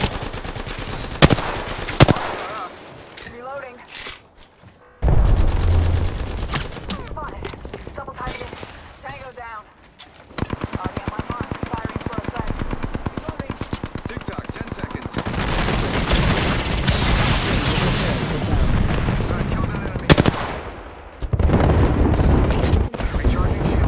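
Gunfire in the shooter game Apex Legends: dense automatic bursts and booming shots, loud and close, with brief pauses and occasional voices over the shooting.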